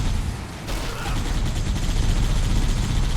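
Gunfire in Halo Combat Evolved, a dense, sustained burst of rapid shots that stays loud and continuous for several seconds, with a brief lull near the start before the firing builds again.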